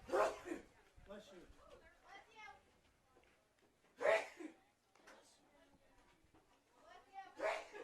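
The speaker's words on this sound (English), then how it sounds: "Those are very loud sneezes." Three loud, sharp sneezes burst out several seconds apart at a softball game, with faint murmuring in the quieter gaps between them.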